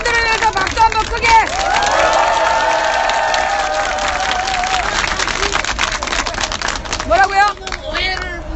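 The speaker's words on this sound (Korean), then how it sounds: "여러분 우리 대한의 아들들 의경들을 위해서 박수 한번 크게" A crowd at a candlelight rally in Gwanghwamun, Seoul, applauds riot police, with steady clapping, cheering and babbling voices spread across the space. The sound holds loud and dense throughout, and voices rise near the end.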